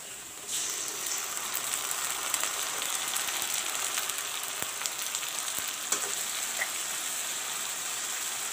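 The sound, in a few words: jeera and garlic paste frying with browned onions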